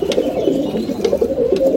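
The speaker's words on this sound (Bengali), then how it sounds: "এই যে এখানে সব পায়রা দেখো এই আমার যে ছাপকা পায়রা" Chhapka pigeons cooing inside a loft, a soft continuous murmur of low coos with a few faint higher chirps, close and steady, no talking.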